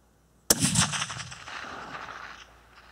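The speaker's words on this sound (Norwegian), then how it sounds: "Skudd kommer." A single .308 Winchester rifle shot with a 175-grain Scenar L bullet, fired at a target about 1270 m away: one sharp, loud crack followed by a long, fading rumble of echo rolling off for two seconds.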